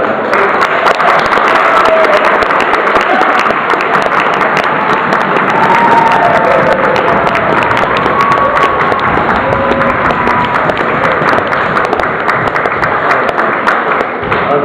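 After a folk song, an audience claps steadily and densely for a long stretch, a sustained wash of applause filling the room at close range.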